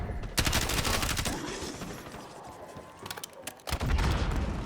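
Rapid bursts of automatic gunfire from a Call of Duty zombies map, with dense, loud volleys separated by a short lull before firing resumes.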